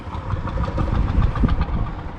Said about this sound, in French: Ah bah voilà, c'est un tracteur.